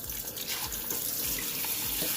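Water runs steadily from a kitchen tap onto the filter basket of a Breville Grind Control coffee maker during rinsing, a continuous close splashing hiss with no voices.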